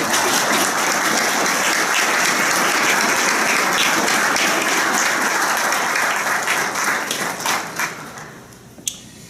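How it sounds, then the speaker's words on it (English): Sustained applause from an audience at a police awards ceremony, honoring a police honor guard; steady dense clapping fills the room, then thins out near the end with a few last claps. "If we could give a round of applause to our honor guard."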